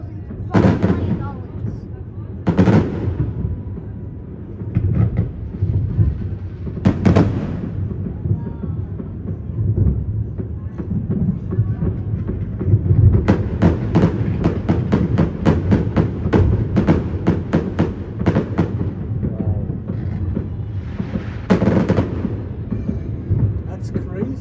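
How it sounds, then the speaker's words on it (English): New Year fireworks go off in a continuous rumble of distant booms and crackles, with sharper bangs standing out now and then and a dense spell of rapid pops near the middle, while people talk nearby. "How much you think all of these fireworks?"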